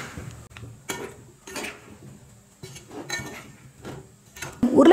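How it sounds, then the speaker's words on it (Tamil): Potato pieces being mixed by hand with beaten egg and chilli powder in a metal bowl, a series of close, irregular clinks and wet scraping strokes with short pauses between them. "எல்லாத்தையும் சேர்த்து நல்லா மிக்ஸ் பண்ணி விட்டுக்கோங்க."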